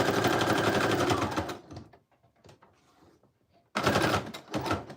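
A sewing machine stitching patchwork pieces onto a junk journal, with a steady loud whirring run of needle strokes, a pause with small handling clicks, then another run of stitching.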